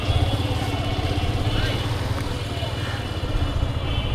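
A motorbike idles steadily and close by while being parked near Baitul Mukarram mosque, a low continuous engine rumble with a person talking over it.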